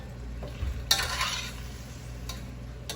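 Bitter melon dish with mustard seeds beginning to simmer in a pot, giving a soft, steady bubbling sizzle over a low hum, with a couple of brief scraping stirs.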